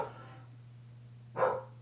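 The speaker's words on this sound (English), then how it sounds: "Jackie, stop barking." A single short dog bark rings out, moderately close, after a quiet stretch with a low background hum.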